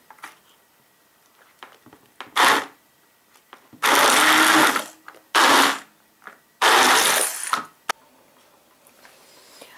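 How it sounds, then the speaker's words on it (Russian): Kitchen blender chopping walnuts and cake ingredients for an anthill cake, four short loud whirring bursts separated by quiet pauses, with no talk. "И опять немножечко измельчу блендером."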